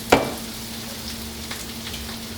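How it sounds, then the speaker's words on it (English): Onions sautéing in a pan make a soft, steady sizzle, opened by a single sharp clink of a utensil. "Let these saute just a little bit."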